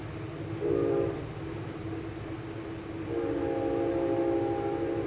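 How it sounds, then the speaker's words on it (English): A steady train horn sounds close and loud, with rail rumble beneath, two sustained tones rising after a brief earlier blast. "Well, there's probably a train horn."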